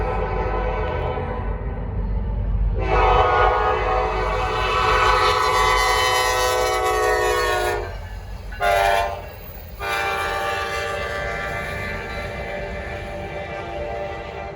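A southbound Norfolk Southern P42 passes with a loud, sustained horn blast. The horn breaks off briefly with a short tap, then sounds again over the steady rumble of the train and its rolling wheels.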